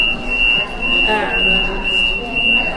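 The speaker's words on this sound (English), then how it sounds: "Is that the fire alarm?" Shop fire alarm sounding as a steady, piercing high-pitched electronic tone throughout, loud and continuous, with voices talking underneath.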